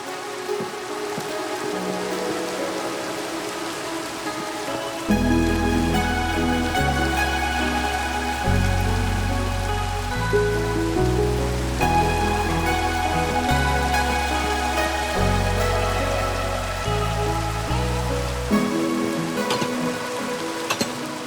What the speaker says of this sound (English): It is a nice night for it, even though it is raining, but I like the rain.